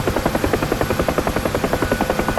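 A UH-1H Huey helicopter in the DCS flight simulator gives a loud, steady rotor thump with fast regular blade slaps over a constant turbine whine, close and alone.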